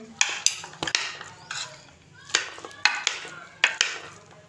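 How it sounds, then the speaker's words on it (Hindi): A spoon clinks repeatedly against a bowl while aloo chana chaat is mixed with fresh lemon juice, giving a close, steady rhythm of sharp metallic taps and scrapes with a faint background hum. "ये हम इसको अच्छे से मिक्स कर लेंगे।"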